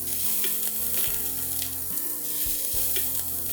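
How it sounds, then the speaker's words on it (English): Chopped garlic sautéing and being stirred in a pan for a spinach and chana dal curry, giving a steady sizzle and frying hiss with periodic scraping stirs under a low background hum. "Next goes in the chopped garlic. Saute this for a few seconds."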